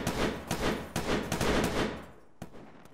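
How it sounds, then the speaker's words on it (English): Gunfire in a ShackTac military game session, with several loud, close shots and short bursts cracking in quick succession, then fading echoes and one last isolated shot. "I think we're getting shot at from the west."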